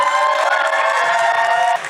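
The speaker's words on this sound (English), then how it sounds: "That was a great round of applause." A convention panel audience at Thy Geekdom Con 2024 cheers and applauds loudly for voice actors coming on stage, a dense sustained roar of whoops and clapping that cuts off abruptly near the end.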